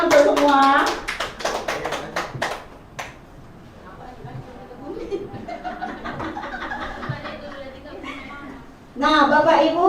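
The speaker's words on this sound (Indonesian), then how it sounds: "Aplaus dong untuk semua." Teachers at a school workshop on positive classroom culture applaud. A burst of close hand clapping opens, then quieter chatter and chuckling follow before a second round of clapping rises at the end.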